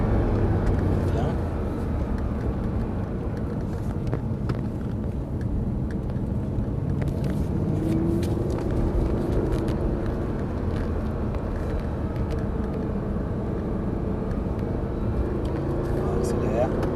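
An Audi R8 accelerates on a race track, its engine a steady loud drone that continues throughout beneath French conversation inside the car.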